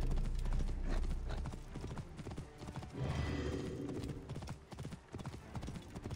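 A horse's hooves clip-clop in a steady trotting rhythm in the game Assassin's Creed Origins, close and moderately loud, with a brief snort or whinny partway through.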